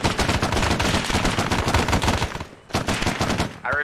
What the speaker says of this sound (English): So I'm taking fire.